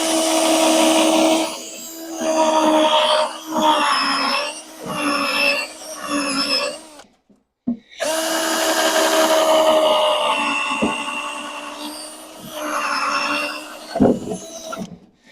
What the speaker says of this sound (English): I'm just going to use the drill with the core bit on